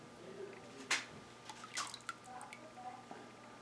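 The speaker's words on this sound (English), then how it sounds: "get a line on the inside by pouring it down into the center, and then here pour it along the side and then back out" Liquid glaze poured onto a pottery piece, soft wet splashes and drips in scattered bursts, one stronger splash early, quiet and close.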